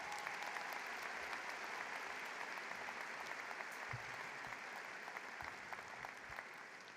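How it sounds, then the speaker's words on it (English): A large audience applauds steadily at a George Mason University winter commencement, a broad even wash of clapping heard from a distance that continues for several seconds. "Please give Shaza Anderson another round of applause."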